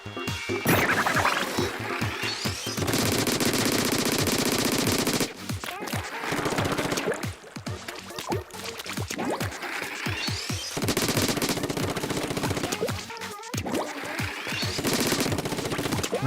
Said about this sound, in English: Why am I shooting that so much?